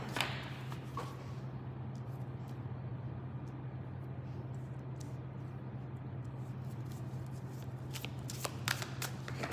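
Tarot cards being shuffled, a continuous soft riffling of cards close by with scattered sharper snaps and taps, over a low steady hum.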